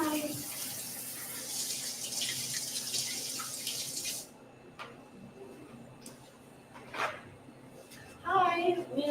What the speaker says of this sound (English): I'm going to wash my hands, actually.